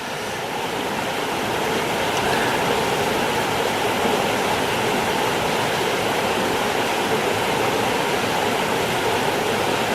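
A slot-canyon creek where coarse gold has washed out of the rocks flows in a steady, loud, broadband rush of water that continues without a break for the whole stretch, with no voices.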